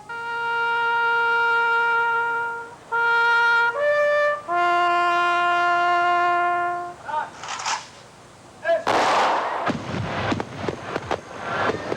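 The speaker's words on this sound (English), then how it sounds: "As sirens wailed across the land" A sustained siren sounds across Israel on Memorial Day, holding steady tones that shift in pitch, before giving way to loud, bursting crackles and rough noise.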